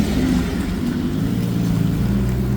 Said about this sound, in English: these cars are so loud